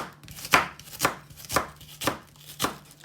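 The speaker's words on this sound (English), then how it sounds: "when you're chopping up onions, try to put your hands forward and your thumb behind" A knife finely chopping onions on a board: five crisp, evenly spaced chops about half a second apart, close and clear with a faint hum beneath and no voices.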